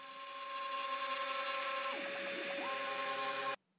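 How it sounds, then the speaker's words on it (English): CNC router with a 1/8 inch two-flute spiral upcut bit cutting the radius and perimeter of a guitar fretboard, a steady high whine with a brief dip in tone before stopping abruptly. "I used an 1/8 inch two flute spiral upcut bit to cut the radius as well as the perimeter shape of the fretboard"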